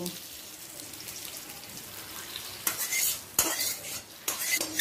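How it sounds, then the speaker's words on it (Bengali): Black cumin tempering goes into simmering masoor lentil dal and gets stirred in, with a steady low kitchen bustle giving way to several loud, sharp bursts of sizzling and spoon clatter near the end. "এবার ডালে ফোড়নটা দিয়ে দেব।"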